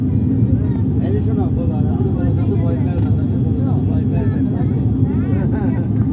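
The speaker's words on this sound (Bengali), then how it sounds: "আমরা কিন্তু নিচে নামছি বিমানটা" Inside an airplane descending toward Cox's Bazar, a loud, constant engine rumble and cabin drone fill the space while someone talks over it.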